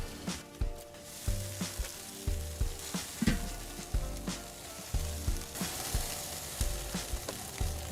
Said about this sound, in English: There's a whole lot of sizzling going on in here